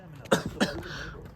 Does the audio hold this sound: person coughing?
yes